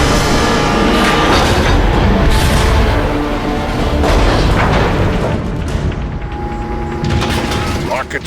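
Long-range artillery fires in Transformers: Fall of Cybertron, with loud, repeated booming blasts and rumbling bursts across the whole stretch, dense and close, with no clear pauses.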